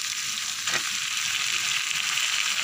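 Mutton sizzles and fries in masala for a traditional Assamese mutton curry, a continuous hiss with a brief stir midway, close and unaccompanied by speech.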